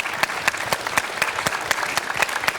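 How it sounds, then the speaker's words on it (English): Steady audience applause from a gathered crowd, a dense patter of many hands clapping at moderate distance without pause, then fading at the end. "Give yourself a round of applause."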